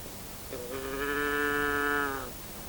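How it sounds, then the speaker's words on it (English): A moo box toy muffled inside a bag gives one drawn-out, wavering moo that swells and fades over about two seconds, close and fairly loud. "It's a cow. Well, not a real one, not a whole one. It's a moo box."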